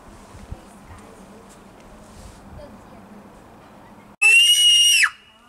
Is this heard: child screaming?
yes